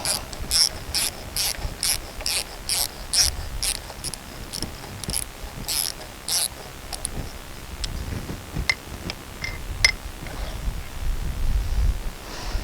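A hand ratchet clicks in a fast, regular run of sharp ticks, then slows to a few scattered clicks as it loosens a fitting on the bucket cylinder of a Komatsu D31 dozer, with faint low shuffling noise underneath.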